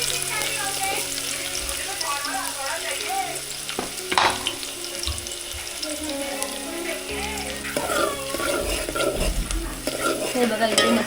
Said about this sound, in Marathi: फोडणीमध्ये लसूण आणि कांदा टाकलाय